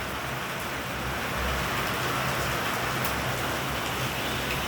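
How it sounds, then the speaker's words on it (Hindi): Heavy first monsoon rain pours down in a dense, unbroken roar, loud and close, with no voices. "बढ़िया बारिश आ रही है।"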